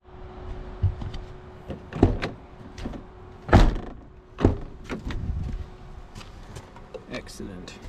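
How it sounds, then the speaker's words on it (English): The door of a 2000 Chevy S10 pickup truck is worked and shut, giving several sharp metallic thuds and clunks at uneven intervals in a garage-like space, with someone talking in between. "make sure the door closes before I make this permanent"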